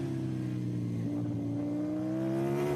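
Andrea Dovizioso's Ducati MotoGP motorcycle at Motegi, Japan, heard on-board as the engine holds a high, steady whine, then shifts and climbs in pitch under acceleration, loud and continuous.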